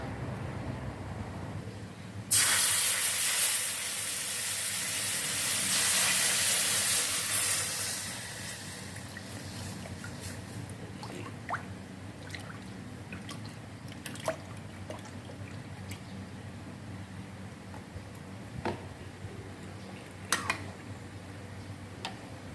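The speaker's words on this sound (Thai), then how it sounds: "ผมก็จะใส่กะทินะครับ" Coconut milk pours into a curry pot for banana-stem chicken curry, a loud hissing rush for several seconds, then quiet bubbling simmer with scattered small ticks and pops.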